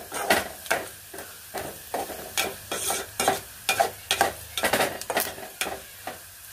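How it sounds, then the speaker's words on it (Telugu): A tempering of spices sizzles in oil in a pan for dosakaya pappu, a cucumber dal, with about a dozen rhythmic spatula scrapes and knocks over a soft frying hiss, close by and without talk. "మనకి తాలింపు ఫ్రై అయింది."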